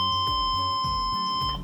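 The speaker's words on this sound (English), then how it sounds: "Once finished, the pump will beep once" An infusion pump gives a beep after a bolus finishes, a steady pure electronic tone held through the whole clip over a rhythmic low background pattern.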